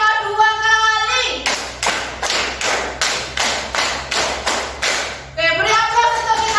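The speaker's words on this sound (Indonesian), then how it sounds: "Tepuk satu, tepuk dua, tepuk tiga, tepuk empat, tepuk lima dua kali." Rhythmic group hand clapping in a classroom, a steady run of about twelve loud, evenly spaced claps lasting several seconds, with children's voices chanting before and after.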